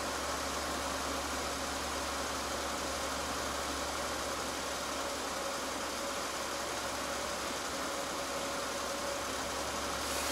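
An old car with a dynamo runs at a fast idle in the snow, giving a constant steady engine drone with a faint rattle that neither rises nor falls from start to end.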